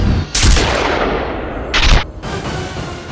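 Gunshot sound effect from a drama scene as a killer fires a first shot: two sharp, loud bangs about a second and a half apart, each trailing into a short rumbling echo, with no speech.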